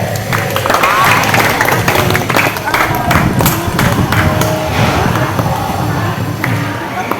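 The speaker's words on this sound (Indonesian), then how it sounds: "Tepuk tangan dulu." A class of pupils claps together in a school lesson, a dense, loud burst of applause holding steady for several seconds, with scattered thumps and voices mixed in.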